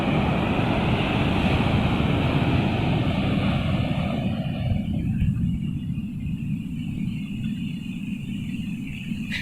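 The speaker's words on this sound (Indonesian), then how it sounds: "Iya, ombaknya masih besar sekali itu." Big ocean waves roll onto Drini beach in Indonesia, a loud, continuous roar of surf with a heavy low rumble. It stays steady throughout and eases slightly partway through.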